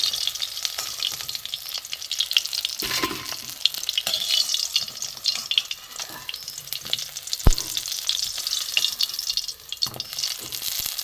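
Prawn fritters deep-frying in hot oil as they are lifted out, a bright crackling sizzle with intermittent clinks and knocks of the utensil against the pan, close and steady with no talking.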